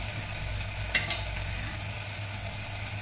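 Asafoetida and turmeric stirred into tomato sautéing in a pan, a steady close sizzle with a brief scrape of the spoon partway through, no voices.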